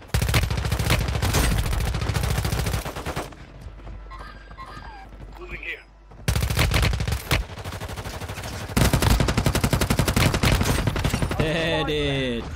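Rapid bursts of gunfire in Warzone Mobile, loud and dense, breaking off for a quieter stretch before more volleys; a player talks over parts of it.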